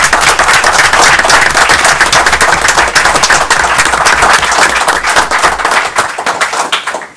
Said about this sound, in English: Again, I just wanted you to join me in a round of applause.